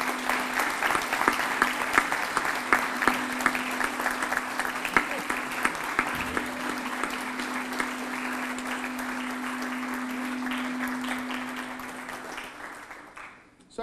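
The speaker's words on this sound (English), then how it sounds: "Please lead all of us in a round of applause for your parents and family members" Audience at a Comcast Leaders and Achievers ceremony in Harrisburg applauding graduates' parents and families: sustained, dense clapping for about twelve seconds with a steady hum beneath, tapering off at the end.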